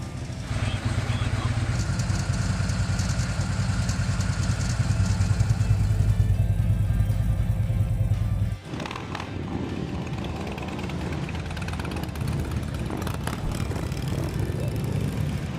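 A Harley-Davidson motorcycle engine idling gives a loud, deep, steady rumble for about eight seconds, then drops away abruptly, leaving quieter mechanical background noise.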